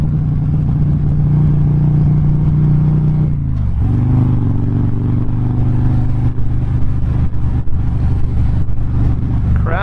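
A 2008 Harley-Davidson Road King with a Twin Cam engine cruising on the road, loud steady low engine drone with a brief dip and shift in pitch partway through, plus wind rush, no talking.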